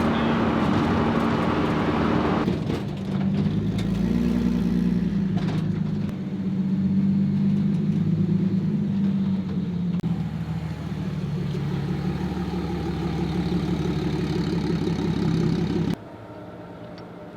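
A 1949 Ford body mounted on a BMW chassis drives along the road with a steady, loud engine drone and road rumble, the pitch shifting slightly as it moves, then dropping to a quieter idle near the end.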